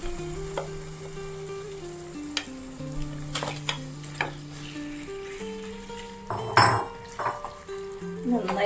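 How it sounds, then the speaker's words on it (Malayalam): Marinated chicken frying in masala in a pan for chicken vindaloo, with soft sizzling and scattered scraping stir strokes, plus a bright clink of utensil on pan near the end, over a faint steady tone. "നമുക്കിതിലേക്ക് മാറിനേറ്റ് ചെയ്ത് വെച്ച ചിക്കൻ ചേർത്ത് കൊടുക്കാം"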